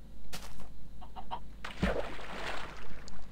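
A chicken in the Minecraft video game clucks in short, repeated bursts alone, with a low steady hum underneath.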